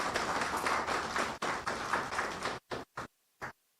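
Audience applause at a college ceremony in Jamaica: dense, steady clapping from a crowd that breaks off abruptly, leaving a few scattered final claps trailing into silence.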